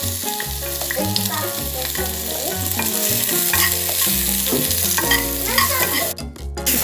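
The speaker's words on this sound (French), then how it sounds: "Dans une poêle bien chaude, on va légèrement huiler. On ajoute une partie des oignons." Onions sizzle and fry in a hot, lightly oiled pan with steady stirring, a broad hiss that sits beneath prominent background music throughout.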